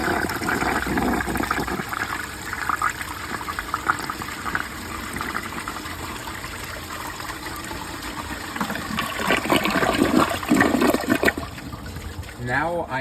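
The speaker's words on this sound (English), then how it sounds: "So now I will give this toilet a close-up flush" A 1968 American Standard Cadet toilet flushes up close, with a loud, churning gush of water swirling and draining, surging again near the end as the bowl refills.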